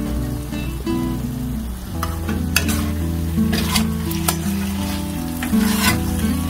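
Okra sizzles steadily in a pan of raw mustard oil. A spatula stirs through it, adding intermittent scraping clinks over the continuous close frying hiss, with no talking.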